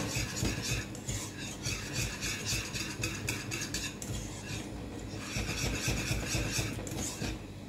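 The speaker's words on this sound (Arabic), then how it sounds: "ولكن دائما التحريك، ما نوقفوش على التحريك" A spoon scrapes and swirls in a pot as a thickening cream mixture for patachou pastry is stirred without stopping. The strokes are close and rhythmic, with metallic scraping and a short lull midway, and no talking.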